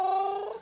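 A person imitates a cat's purr with a voiced, steady rolling hum while zoo animals are shown on a talk show. It is short, close and continuous, fading slightly toward the end.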